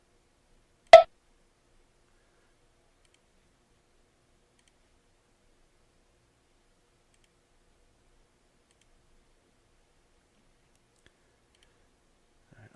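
One crisp computer mouse click sounds during CAD table assembly work, followed by long near-silence.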